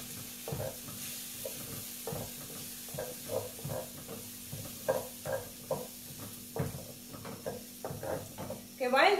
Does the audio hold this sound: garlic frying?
yes